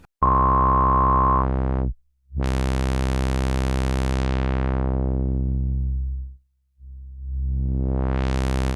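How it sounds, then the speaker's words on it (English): Harsh, dirty digital synthesizer tones, loud buzzy drones rich in harmonics, cutting out twice with filter sweeps opening and closing the brightness. "what we're going to get here is some really nasty, dirty digital tones"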